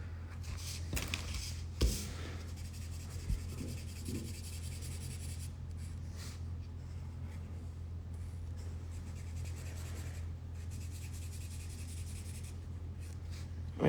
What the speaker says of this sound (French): On va dessiner ces arches en jaune.